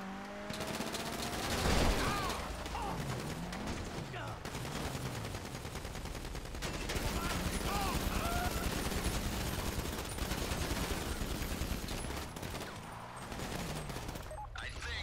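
Rapid bursts of pistol and SMG gunfire fired from inside a car during a GTA 5 Online prison break heist mission, with engine noise, dense continuous fusillades rattling throughout and no voices.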